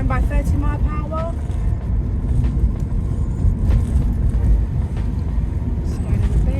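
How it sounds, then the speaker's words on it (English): A Toyota Yaris 1.3 petrol with manual gearbox cruises at 30 mph, a steady low road and engine rumble heard from inside the cabin, with someone talking over it. "So you can hear the car. This is 30 mile per hour."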